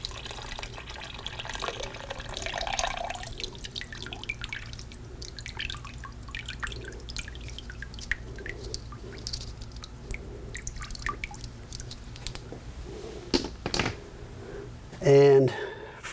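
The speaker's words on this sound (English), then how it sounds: "we're going to take all the pieces out and rinse them off" Plastic pre-filters from an electronic air cleaner rinsed under running water: continuous splashing and trickling with frequent drips, and a few louder knocks and clatters near the end.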